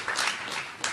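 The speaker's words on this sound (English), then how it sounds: "he deserves a major round of applause" A short, fairly faint burst of audience applause follows congratulations to the set designer of Hamilton, with soft clapping swelling and fading within a second.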